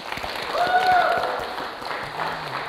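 An audience applauds at a Kyrgyz family game show after a team scores seven goals, a steady wash of clapping that swells and then slowly tapers off.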